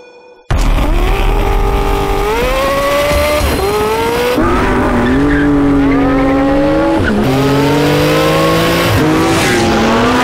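Porsche 918 Spider plug-in hybrid with a 4.6-liter V8 accelerating hard, its loud engine note climbing steadily through several gear changes, close and continuous for about ten seconds.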